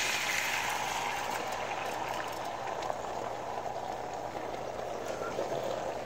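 Eggs frying in an overly hot nonstick skillet coated with cooking spray, a steady, dense sizzle that holds evenly throughout with no break, fairly close and alone.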